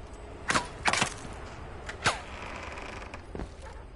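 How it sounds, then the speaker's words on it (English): Door creaking open in the video game Firewall Zero Hour: several sharp creaks and wooden knocks spread over a few seconds at moderate loudness against low game ambience, with no speech. "that door just opened"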